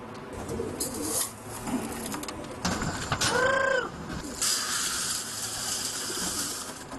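Pigeons coo in short rounded calls, with one clear cooing phrase in the middle over a busy background of rustling and flutter, moderately close.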